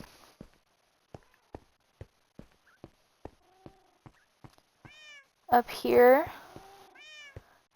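Minecraft cats meow in the game world, a few drawn-out high meows near the end, after a steady run of soft clicking footsteps, while a person speaks briefly.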